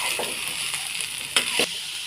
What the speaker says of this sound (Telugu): పచ్చిమిరపకాయలు వేగాక ఈ ముక్కలు వేసుకొని వేయించుకోవాలండి